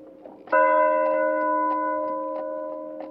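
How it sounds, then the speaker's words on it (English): A deep bell tolls once after a brief quiet start, its clear pitched tones ringing out and slowly fading, with faint ticking tapping along underneath. "Ringing bells, tolling slowly."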